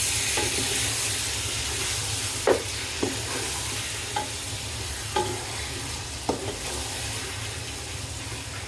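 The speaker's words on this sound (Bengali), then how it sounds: "মাংস একটু ভালো করে নেড়ে নিতে হবে যাতে মশলার সাথে মাংসগুলো একদম মিশে যায়" Beef pieces sizzle steadily in a pan of fried spice masala while a spoon stirs them, scraping and clicking against the pan every second or so, close up and with no talking.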